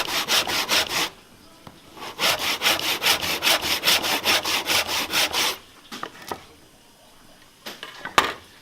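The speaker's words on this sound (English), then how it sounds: "because we're going to cut down to that line" Hand saw cutting a wooden stool housing down to a line, with steady rhythmic rasping strokes close up, a short pause, then a few slower final strokes.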